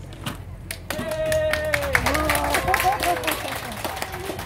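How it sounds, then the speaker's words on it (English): An audience in England claps and cheers on request at a wedding gathering, a mix of hand claps, whoops and crowd voices swelling after a quiet start and staying loud throughout. "to say thank you to people, we clap and cheer."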